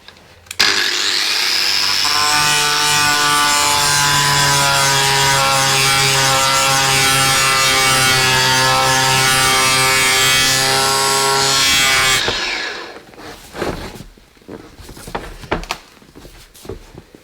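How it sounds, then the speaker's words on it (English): A grinding disc thins a section of metal on a Jeep XJ part, a loud sustained whine lasting about eleven seconds before cutting off, followed by clanks and handling noises. "I'm just taking a grinding disc and just thinning out a portion of the material"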